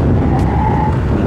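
A loud, close rear-tire skid from a Honda Stylo 160 scooter: a rough scraping hiss with a brief squealing tone over engine noise, lasting about a second.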